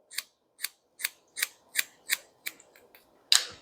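Scissors snip hair straight across at chin length for a layered haircut, giving about nine crisp, evenly spaced close cuts in a quiet room, with a louder final snip.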